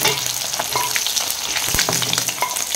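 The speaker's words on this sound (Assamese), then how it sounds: "মাছখিনি প্ৰায় ভজা হৈ গ'ল।" Fish pieces fry in hot oil, giving a steady close sizzle and crackle with a few sharper pops and stirring scrapes throughout, and no talking.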